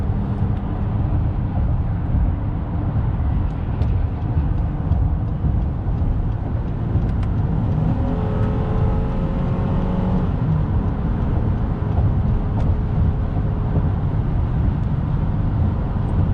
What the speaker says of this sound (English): you touch that gas pedal and this Ridgeline just want to go.